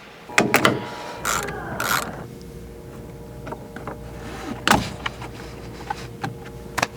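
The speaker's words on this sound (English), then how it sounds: "use a T50 in order to unscrew that bolt" A ratchet with a T50 bit unscrewing a seat belt bolt on a B-pillar of a 6th-generation Ford Ranger: close mechanical clicking and ratcheting bursts, then scattered sharper clicks and knocks with pauses, no talking.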